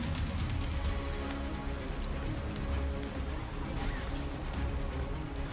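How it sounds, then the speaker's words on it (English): Steady rain falling in the video game Throne & Liberty, a dense constant patter with no pauses, alone and moderately loud. "And it's still raining, so they cannot get through the sewer."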